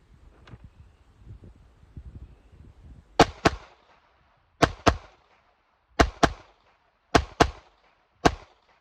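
Pistol shots fired during a shooting drill: sharp, loud cracks in pairs and singles at a steady pace, preceded by quieter handling noise at the start.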